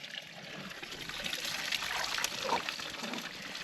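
Hot water at 130 degrees trickles and splashes steadily into a hot spring tub, a continuous close, bright dribble with faint outdoor background.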